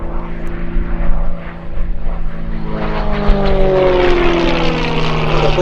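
Gamebird GB1 propeller aerobatic aircraft performing at the Sywell airshow, a loud buzzing engine drone that rises in pitch as the plane climbs, with no voices heard.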